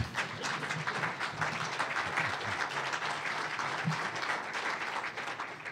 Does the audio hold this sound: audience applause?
yes